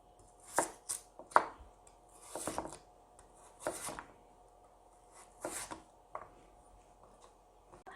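A knife cuts Korean radish into large chunks for crab soup on a cutting board. Crisp, close chops land in an irregular rhythm, some in quick pairs, separated by short pauses.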